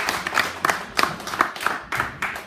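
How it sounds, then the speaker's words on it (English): A small group claps in sharp, distinct beats at an event, individual hand claps standing out in an uneven rhythm rather than a full crowd roar, close and fairly loud. "Let's give them a round of applause."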